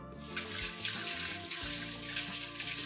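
Cold water runs from a kitchen tap while galette dough is being made, a short continuous close splash of about three seconds with no voices.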